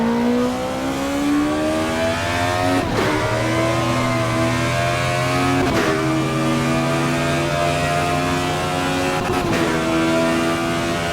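A race car in Assetto Corsa Evo drones loudly and steadily under load, its exhaust note rising in pitch through the gears with three brief shift breaks, close and continuous with no talking.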